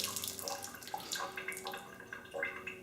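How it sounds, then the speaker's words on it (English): Water running from a Moen high arc kitchen faucet just after a dripping leak repair, a steady splashing stream into the sink with slight sputtering from air in the line, close and continuous. "Water flows a little weird because I shut the water off for a little bit,"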